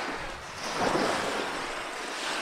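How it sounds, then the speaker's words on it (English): Ocean surf washes steadily onto the shore at sunrise beside a line of moored boats, a continuous broadband roar that swells slightly near the middle, mixed with light wind noise and no voices. "the waves crashing in the foreground"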